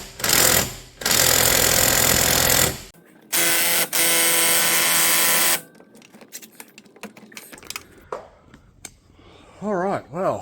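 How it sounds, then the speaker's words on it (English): A loud impact wrench hammers in long bursts on the crank pulley bolt of a Jeep Wrangler JK with a 3.6 Pentastar engine. Two sustained rattling runs are followed by quieter clicks and handling noises, and a brief voice appears near the end. "Impact wasn't enough. I was going at it hard for a while, and it just would not budge."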